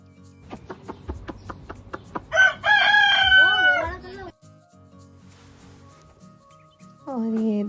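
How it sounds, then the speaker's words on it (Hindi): Roosters crow loudly at a children's farm in Melbourne, a long cock-a-doodle-doo rising after a run of rhythmic clucks and a second crow starting near the end, with people talking quietly between calls. "यहाँ पर आप देख सकते हैं रूस्टर्स को जो क्रो कर रहे हैं, यानी कॉक-a-doodle-doo"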